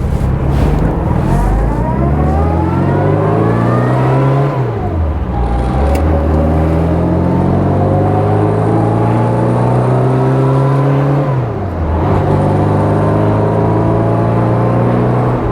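A 1960 Austin-Healey Bugeye Sprite engine revs and accelerates through the gears while driving, loud and close, pitch climbing then dropping at each shift twice over, with steady road and wind noise throughout.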